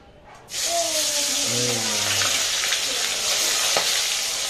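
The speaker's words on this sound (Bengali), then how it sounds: "এখন মাছ ভাজবে, তেলে ছাড়বে, তেল চলে এসেছে, তেলে ধোঁয়া উঠতেছে।" Fish frying in smoking-hot oil, a loud steady sizzle that bursts in at once and holds throughout, with brief voices and a faint tone early on.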